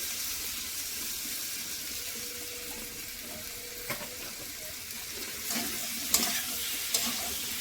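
Oil sizzles in a pan as boiled yam is stirred and fried, giving a continuous soft crackling hiss with occasional scraping stir strokes and a few sharper clinks near the end.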